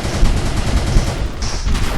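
Rapid, continuous gunfire from the blocky shooter game Murder Miners rattles loudly and steadily throughout, with a dense stream of overlapping shots and no pauses.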